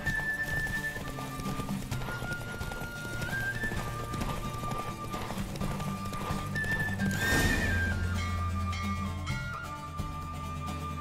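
Horse galloping in a race in The Witcher 3, rapid hoofbeat clip-clops with a whinny partway through, set against game music and ambience.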